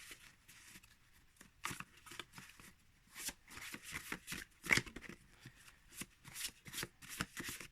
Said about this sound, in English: So I will just have to make do with this type of shuffling. Or pile shuffling.